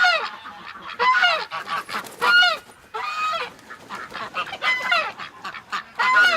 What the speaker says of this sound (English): Come on out, Goose